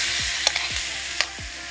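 Mixed vegetables with capsicum fry for fried rice, a dense continuous sizzle with repeated scraping sweeps of a spatula stirring the pan.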